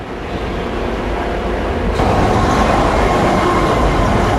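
A subway train rumbles loudly and steadily, with a continuous roar of wheels on track and no voices.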